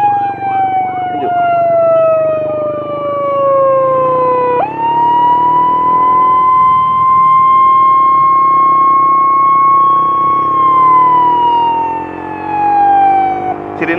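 A loud escort vehicle siren wails close by, its pitch sweeping down, jumping back up and holding before falling again, with vehicle noise underneath.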